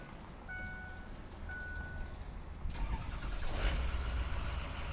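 A 550 truck engine cranks and catches, a brief starter whir giving way to a rougher running rumble that settles into a steady idle, close by.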